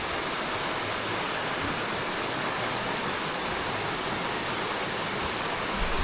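Water flows steadily along a slippery hillside trail, a constant broad hiss that stays even from start to finish with no other sounds over it.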